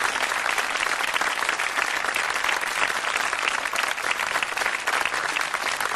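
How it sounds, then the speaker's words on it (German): A television award show audience applauds continuously, a dense, even roar of many clapping hands at a steady level from start to finish, with no voices standing out. "Applaus."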